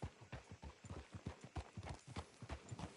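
Horse hooves clip-clop at a steady walking pace in the video game Red Dead Redemption 2, close and fairly quiet, an even rhythm of hoofbeats throughout.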